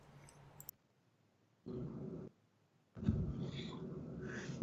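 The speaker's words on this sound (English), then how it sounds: "the dog was going bonkers because UPS decided to bring the rest of my records" A dog growls and barks indoors in short low bursts separated by near silence, then a longer rough stretch of growling, fairly faint overall.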